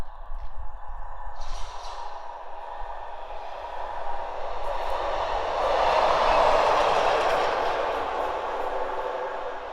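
A lone freight locomotive running light on the South Western Main Line at Winchfield passes with a rising, broad rumble and track noise that peaks mid-pass and then eases.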